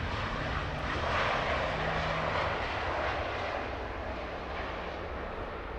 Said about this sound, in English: Just in time for the Emirates A380, looking absolutely magnificent on approach.